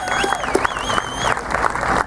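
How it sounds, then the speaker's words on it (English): Audience applause at a Mick Mulvaney political rally, steady clapping mixed with crowd noise and a few whistles, fairly loud and continuous, with some voices in the background. "Give him a round of applause."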